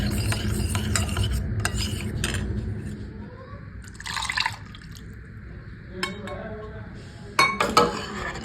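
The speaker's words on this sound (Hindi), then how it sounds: "भाई ये मैं दूध में ना कस्टर्ड घोल रही हूँ, ये डालूंगी खीर में" Custard powder whisked into milk for kheer, a spoon clinking and scraping against the vessel in quick bursts with watery swirling, a few louder clinks near the end.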